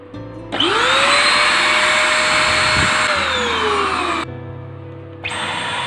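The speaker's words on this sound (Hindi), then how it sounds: "मेरे पुराना वैक्यूम क्लीनर ऐसा आवाज़ करता है" An old vacuum cleaner switching on with a rising whine, then running as a loud, steady high-pitched motor roar that later drops in pitch and restarts, close to the microphone, with no talk.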